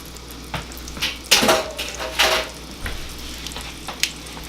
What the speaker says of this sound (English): It sounds like it's already cooking.